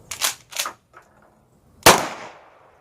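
Two sharp, close reports in quick succession, then a faint tap and a louder, ringing blast from a Mossberg 500 Compact Cruiser AOW shotgun firing 15-pellet double-aught buckshot, its echo trailing off.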